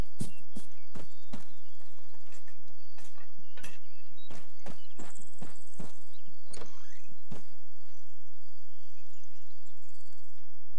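Footsteps in the video game Arma 3 with the Ravage zombie mod: sharp, fairly loud steps in an irregular rhythm, about a dozen in quick succession, over a quiet steady background hum.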